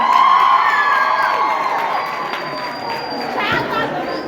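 An audience at a June 16 school event with a debating team cheers, whoops and shouts loudly as a crowd, a dense continuous roar with excited voices throughout.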